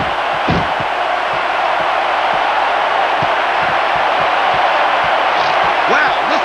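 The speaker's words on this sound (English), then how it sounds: "Wow, listen to that chant" A wrestling arena crowd at a WWE Hell in a Cell triple threat match keeps up a loud, steady roar and chant, with dull thuds and slams from the ring landing at irregular intervals beneath it.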